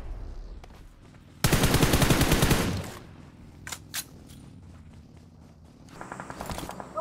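Automatic gunfire in a video game: one loud sustained burst of rapid shots lasting over a second, followed by scattered single shots and a later shorter volley, with no talk.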